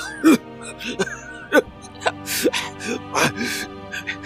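A person imitates a series of short, raspy coughs and throat-clearing noises, several bursts spaced irregularly over a few seconds.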